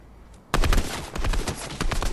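Video game gunfire breaking out abruptly after near silence, a loud rapid stream of shots that dips briefly and then keeps firing steadily to the end.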